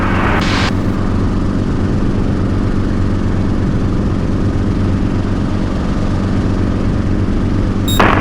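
A Schweizer S300 (H269B) helicopter's engine drones loud and steady on a taxiway, a constant low rumble with a brief higher burst near the start and end, no voices over it.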